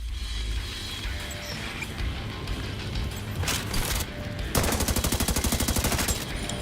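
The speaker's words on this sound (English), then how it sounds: "let's reload our shotgun here" A shotgun is reloaded in The Division 2, with a quick series of evenly spaced mechanical clicks and clacks rising over a steady bed of in-game action noise and scattered shots.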